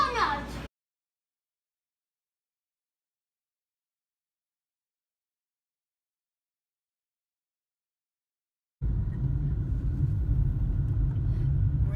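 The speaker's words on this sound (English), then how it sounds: "We are driving through this cool little town." A car drives through the small coastal town of Cambria, California, giving a steady low rumble of engine and road noise from inside the vehicle, near and continuous, after a long stretch of near silence.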